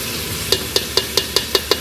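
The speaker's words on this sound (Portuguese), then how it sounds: "Ela já tá começando a fritar" Meat fries in a very hot pan over a high flame, a steady close sizzle under a run of seven quick, evenly spaced clicks of stirring, with no voice.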